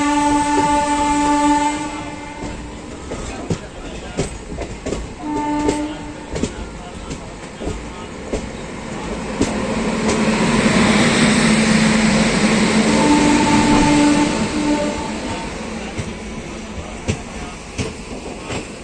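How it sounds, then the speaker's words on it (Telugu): An express train on the Vijayawada to Visakhapatnam line passes close by. Long horn blasts sound early on, followed by a loud, rising roar of wheels on rails with rhythmic clacking. A voice is briefly heard under the noise. "ట్రైన్ ఏదో ఉంది చూద్దాం"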